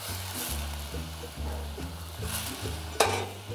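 Vegetable broth poured into a hot pan of fennel and potatoes, hissing and sizzling steadily under stirring, with a low droning background and one sharp clink of a utensil near the end, no talking.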